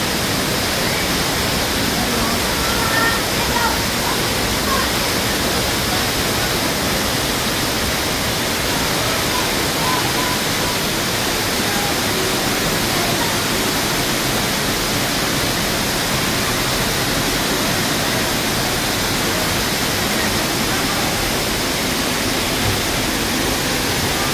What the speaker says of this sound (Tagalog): Ganda, ang lakas ng speed ng water.